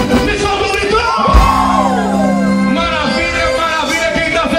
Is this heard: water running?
no